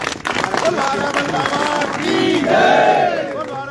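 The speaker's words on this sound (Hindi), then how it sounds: "तो इसके लिए एक बार जोरदार तालियां सभी को" A crowd at a police announcement cheers and applauds for the team, producing a dense, loud wash of voices and clapping that carries on steadily, with a few raised shouts near the end.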